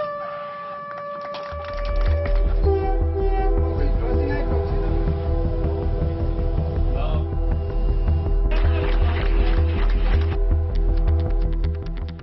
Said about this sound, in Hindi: अंडर वाटर टनल में फर्राटा भरते मेट्रो को अब तक आपने फिल्मों में या विदेशों में देखा होगा